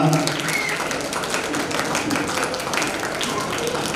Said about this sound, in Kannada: ಜೋರಾದ ಚಪ್ಪಾಳೆ ತಟ್ಟದ ಮೂಲಕ ನಾನು ವೇದಿಕೆಗೆ ಆತ್ಮೀಯವಾಗಿ ಶ್ರೀಯುತರನ್ನ ಸ್ವಾಗತಿಸ್ತಾ ಇದ್ದೇನೆ